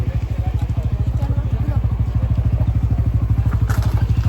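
A motorcycle idles near a temple parking area on arrival at Bhimashankar, its engine thumping in a steady rapid pulse, close and loud throughout.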